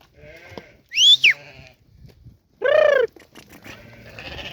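Bozkərə Boğaz sheep in a flock of about two hundred bleat near the microphone, with two loud drawn-out calls standing out over quieter bleats and farmyard rustling.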